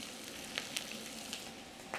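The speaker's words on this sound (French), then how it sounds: "On a mis à rôtir nos carcasses de volaille dans la même casserole dans laquelle on a arrosé la volaille." Poultry carcasses roasting in a saucepan give a steady, soft sizzle and fry, with a few brief crackles and pops rising above the continuous hiss.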